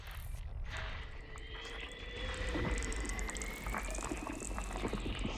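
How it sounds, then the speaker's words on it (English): Water geysers bubbling in a space exploration video game, a steady close gurgling boil with faint whistling tones drifting over it, continuous and alone. "Got water geysers. Very pleasant sounding."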